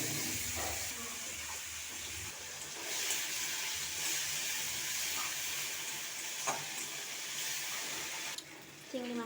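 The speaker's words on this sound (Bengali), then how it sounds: "প্রথমে আমি চিংড়ি মাছটাকে ভেজে নেব" Prawns fry in hot mustard oil in a wok, giving a continuous bright sizzling hiss with occasional pops and utensil knocks throughout, fairly quiet.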